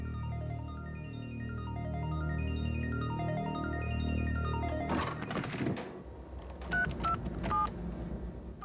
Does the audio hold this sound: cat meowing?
no